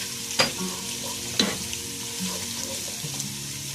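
Chicken pieces fry and sizzle in a pan for egg fried rice, a steady close crackle with a couple of sharp stirring clanks of a utensil against the pan.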